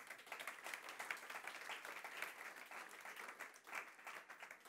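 A conference audience applauds in praise of the Lord, a dense, steady wash of many hands clapping that swells and dips slightly throughout, fairly faint and distant with no talk over it.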